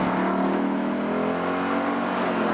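A Ford Mustang Boss 302 muscle car engine roars hard under full throttle out of a corner, a loud, sustained, steady drone with no talk over it.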